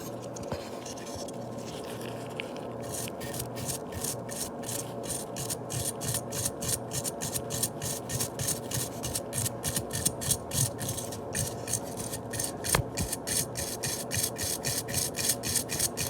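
Dirty PlayStation 4 fan being scrubbed, a quick run of rhythmic scratchy clicks that grows busier and more regular, faint and close, with no talking.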